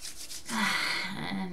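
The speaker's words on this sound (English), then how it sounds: "I'm gonna spend a little more time on rubbing my hands together." Hands rubbed together briskly on a cold day, a soft steady dry swishing friction at close range, continuous for a moment with nothing else heard.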